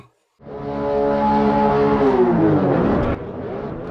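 Race cars in Automobilista 2 launching at the start of a Grand Prix at the Santa Cruz circuit in Brazil, a loud massed engine roar that rises in pitch as they accelerate away, then drops abruptly near the end.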